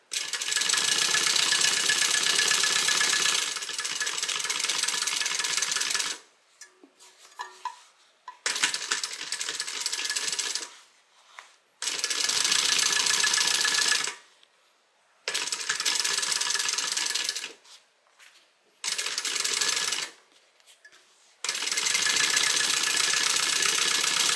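Sewing machine stitching a basting seam along the sides of a small tote bag, running in several loud bursts of steady whirring separated by short pauses.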